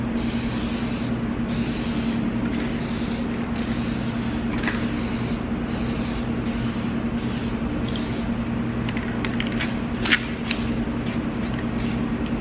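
Hyperdip gloss black aerosol spraying onto Mercedes C-Class side mirrors, a steady hiss running throughout with brief pauses and faint handling noises, close and moderately loud.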